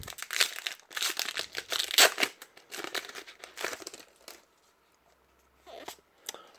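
Foil Pokémon Scarlet and Violet booster pack wrappers being torn open and handled, close crinkling and ripping in quick irregular bursts for about four seconds, then near silence broken by a couple of brief rustles.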